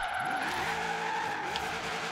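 A Land Rover Series III oversteers and skids in the racing game Forza Horizon 3, a continuous loud engine drone with tyre scrub and skidding noise sustained throughout, steady and close.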